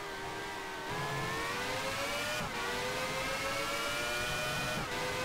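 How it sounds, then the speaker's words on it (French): F1 car engine from a 1994 Formula One racing game, a steady high-pitched whine holding near constant revs, dipping briefly twice as if shifting gears, with no talking. "Alors on n'a pas le plus beau moteur au niveau du son, hein."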